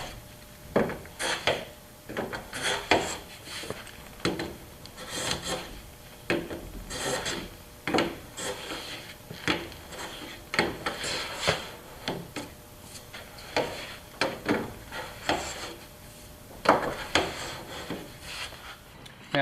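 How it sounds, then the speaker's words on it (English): A chamfer plane is finishing a router-cut avodire wood surface in a series of repeated rasping strokes, close and fairly loud, with an irregular rhythm and no voices. "A machine cut surface, especially with a router, is never going to be perfectly clean, so we finish off with a chamfer plane."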